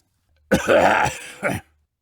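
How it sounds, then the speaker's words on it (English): A single harsh, raspy throat-clearing cough bursts out loud and close, followed by a shorter second hack, then silence. "The pause was followed by a loud cough."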